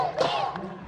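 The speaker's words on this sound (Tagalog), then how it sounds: "Hiyawan ang mga Pinoy na nasa bleachers." Filipino fans shout and cheer from the stadium bleachers after the Philippines men's baseball team wins gold at the 2025 SEA Games, in a brief, loud burst of raised voices.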